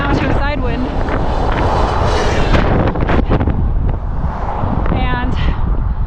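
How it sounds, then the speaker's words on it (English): Strong side wind buffeting the microphone while bikepacking along the Bow Valley Parkway, a loud rumbling roar throughout, with a voice speaking beneath it. "It's probably a headwind, and it's kind of going now to a side wind."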